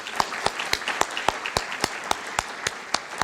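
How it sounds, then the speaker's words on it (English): Clapping at a gala event, sharp claps landing in a steady, even rhythm about four per second, as if hands clap in unison over a softer background of scattered applause. "So how about a round of applause for all of us?"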